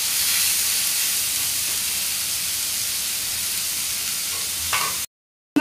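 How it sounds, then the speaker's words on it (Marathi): Tomatoes frying in a pan for egg curry, giving a loud, steady close sizzle and hiss with stirring throughout, then a brief gap near the end. "आता आपण यात टोमॅटो घालूया, व्यवस्थित परतून घेऊया।"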